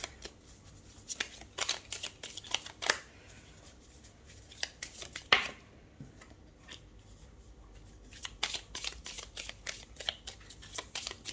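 Tarot cards are shuffled and dealt onto a table in a reading, giving soft riffling bursts and sharp slaps of cards being laid down in irregular clusters, close and fairly quiet with no talking.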